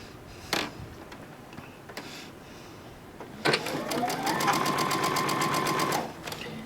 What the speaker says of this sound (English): Then we're going to line it up, and we're going to do our 1/4 inch seam.